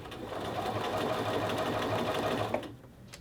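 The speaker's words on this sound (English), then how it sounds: "And then just continue sewing" A sewing machine runs steadily and continuously, close and fairly quiet, as it stitches a collar band onto a men's shirt, then stops near the end.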